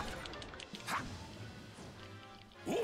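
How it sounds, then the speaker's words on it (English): A weak point smash lands in the action video game Hyrule Warriors: Age of Calamity, a sharp crash and whack heard amid constant battle noise and swishes, with another hit near the end. "I weak point smashed something without knowing it"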